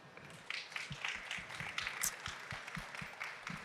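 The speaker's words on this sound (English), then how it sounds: "a round of applause" An audience at a business travel show gives a round of applause for the finalists, with quiet, distant scattered clapping that swells a little and then holds steady.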